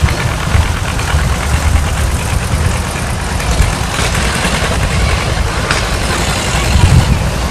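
Tractor engine running in a Christmas parade, a steady low rumble with a knocking idle, continuous and fairly loud throughout amid outdoor street noise.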